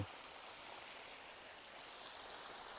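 A stream rushes beside a riverside campsite near Bakota, a steady, unbroken hiss of flowing water at a low, even level with no other sounds.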